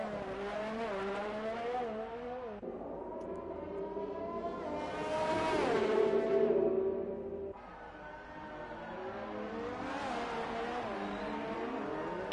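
Formula 3 race car lapping the Monaco circuit in a racing video game, engine revving up and down through gear changes with rising and falling pitch, continuous and steady, briefly louder mid-lap.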